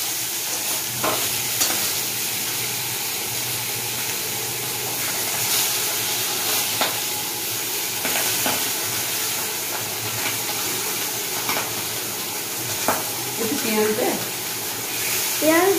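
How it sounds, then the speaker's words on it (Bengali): Pabda fish fries in a wok with a continuous loud sizzle and hiss, punctuated by scattered sharp clicks and scrapes, and some indistinct background voices. "আর ওই কড়াইয়ে পাবদা মাছটা ভাজা চলছে।"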